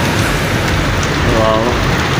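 Steady rain falls in the Philippines, a dense, even hiss that holds without a break from start to finish.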